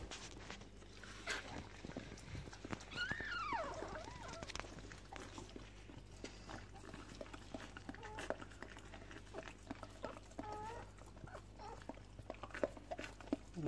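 Springer Spaniel and black and tan Australian Kelpie cross puppy giving faint, high squeaks and whines, a few brief wavering calls over a low steady hum and soft rustling.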